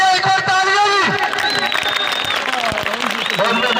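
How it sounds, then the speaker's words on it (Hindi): A crowd at a kabaddi match at the Peer-ul-Haq fair in Dadyal, Azad Kashmir, claps and cheers loudly under an announcer's amplified voice, with an ongoing mix of applause and crowd noise. "एक और तालियां"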